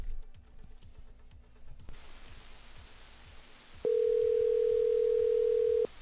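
A telephone call in progress: faint muffled clicking and line noise, then a loud, steady, continuous dial tone that holds alone for about two seconds before cutting off.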